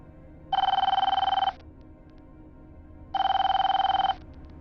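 An outgoing phone call rings back through a handset: two long, evenly pitched electronic ring tones separated by a pause, clear and steady over faint room hiss, with no talk.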